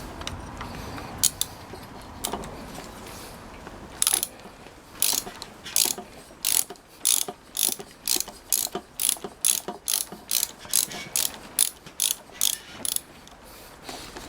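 Bolts on a Yamaha XJ400Z motorcycle fairing bracket are loosened with a ratchet, giving close, rapid bursts of clicking in a steady repeated rhythm, with some handling noise before the clicking starts.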